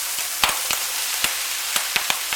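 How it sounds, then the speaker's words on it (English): Capsicum and mushrooms are tossed into a pan already frying bacon and onion, giving a constant close sizzle broken by several sharp clicks and taps of a utensil against the pan. "we now want to throw in our capsicum and our mushies"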